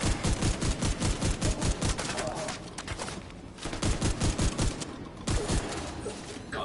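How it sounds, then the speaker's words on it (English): Rapid bursts of gunfire in The Division 2 as a player shoots at a decoy, coming in quick rhythmic volleys with a brief lull midway before the shooting resumes. "Shooting a decoy."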